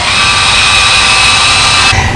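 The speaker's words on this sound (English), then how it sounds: "we drill mix it for 2 minutes again" Power drill mixing a polyaspartic floor coating, a loud, continuous whining motor drone at close range that stops abruptly near the end.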